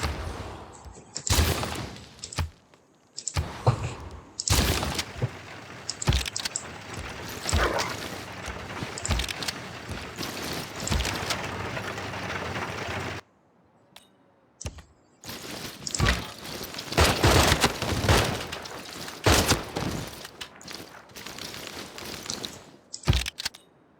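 Repeated sharp booming blasts from cannons in the game Civilization VI, fired in irregular bursts with brief pauses, loud and close, with a short silent gap midway.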